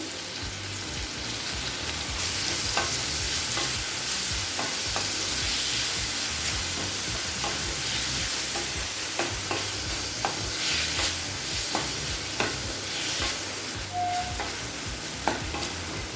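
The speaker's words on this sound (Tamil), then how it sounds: "தக்காளி நல்லா வதங்கிடுச்சுங்க." Tomatoes and onions sautéing in a pan for spicy garlic dosa masala give a continuous, fairly loud sizzle broken by regular scraping stir strokes across the full stretch, with no voices.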